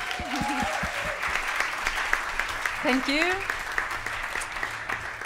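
Applause from a jazz concert audience closing a trio's set, a steady clapping wash running the whole time beneath someone speaking over it, with a few brief tonal sounds cutting through.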